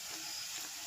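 Cumin and mustard seeds sizzle in hot oil in a pan with a faint, steady hiss, ending in a sudden louder crackling burst.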